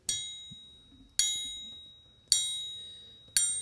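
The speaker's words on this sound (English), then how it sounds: "Kevin, ring the bell for us" A bell is rung four times at a steady pace during a Chicago Bears fan show celebrating an undefeated preseason, each bright, ringing strike decaying slowly before the next one.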